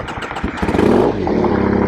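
A Triumph Thruxton 900 motorcycle engine revs up loudly and then settles into a steady, throaty rumble that carries on close by without a break.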